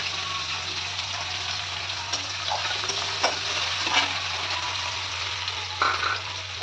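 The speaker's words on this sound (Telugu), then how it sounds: "నెక్స్ట్ ఆనియన్స్ ఫ్రై చేసుకుందాం." Onions fry with cumin and chana dal in a pan for upma, a steady close sizzle with occasional soft stirring scrapes and clicks and no voices.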